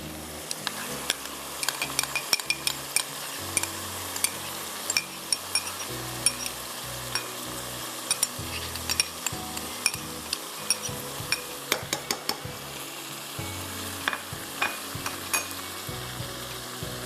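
Chicken masala with yogurt fries in a pan with a steady low sizzle, while a spoon stirs and clinks against the pan repeatedly throughout.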